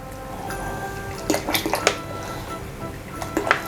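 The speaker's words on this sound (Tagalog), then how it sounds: "Ngayon, dadagdagan lang natin siya ng room temp na tubig." Room-temperature water is poured into a pot of cooked sago, giving a few short splashy bursts and trickles with gaps between them.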